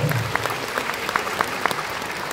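An audience at a school anniversary concert claps steadily and warmly, the applause even and full. A few sharper individual claps stand out near the front.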